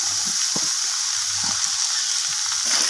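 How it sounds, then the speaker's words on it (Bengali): Potatoes and pumpkin frying in a pan with a catla fish head, a steady loud sizzle broken by soft scrapes and knocks of stirring, close and with no voices. "আলু কুমড়ো দুটোকেই আমি মাছের মাথার সাথে নাড়াচাড়া করে ভেজে নিচ্ছি"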